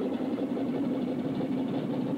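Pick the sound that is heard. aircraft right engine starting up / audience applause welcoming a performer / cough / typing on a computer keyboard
aircraft right engine starting up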